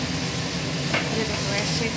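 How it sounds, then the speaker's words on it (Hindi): Cumin powder and spices being stirred in a pan for prawn khichdi, a steady scraping stir over a continuous close sizzle with one brief sharper scrape midway. "और जीरा पाउडर, अब इसको अच्छे से चलाते जाना है।"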